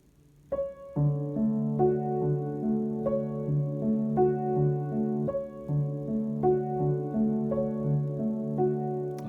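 Piano plays alternating two-note chords in each hand in a steady rhythmic pattern, clear and unaccompanied.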